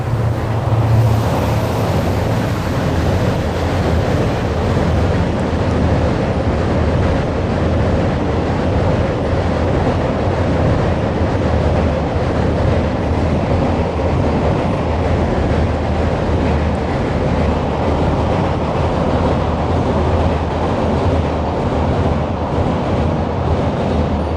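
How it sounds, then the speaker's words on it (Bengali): A loud, continuous low rumble and roar of a train going past nearby, steady for the whole stretch with no voices. "সরি, ট্রেন যাচ্ছে তাই একটু"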